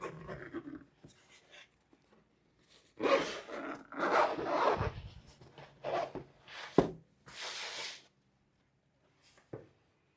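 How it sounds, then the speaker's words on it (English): The zipper on a Nothing Headphone (1) soft case is pulled in several short rasping strokes, close by, separated by brief quiet pauses. "the soft touch case has a zipper"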